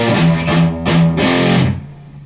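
A distorted electric guitar plays one bar of the third riff, a loud chugging pattern of palm-muted low notes and ringing chords that lets the last chord ring out and fade, with no voices.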